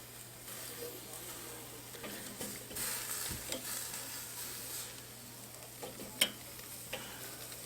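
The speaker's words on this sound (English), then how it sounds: "Put them right over the hot coals." Pork chops set over hot coals on a Weber kettle grill, a soft sizzle with scattered light clicks and scrapes of tongs, fairly faint and close by.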